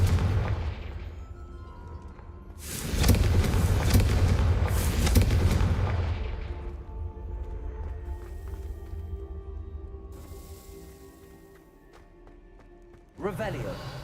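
A Confringo spell explosion in Hogwarts Legacy bursts loudly as a deep, booming blast that rumbles for a few seconds and fades into softer magical ambience, with another sharp impact near the end.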